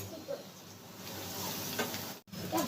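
Aloo biryani ingredients and spice paste sizzling in a pan, a quiet, continuous frying hiss with light stirring and a brief dropout near the end.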